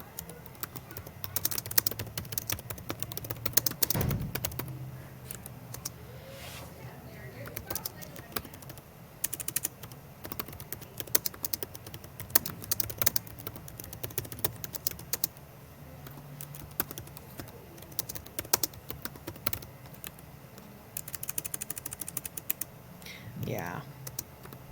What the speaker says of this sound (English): And I'm just going to write a little bit here.